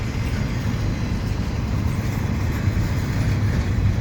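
CP stack and mixed freight train bookended by GE locomotives passing Dorval Station in winter, a steady close rumble of wheels and cars rolling by without pause.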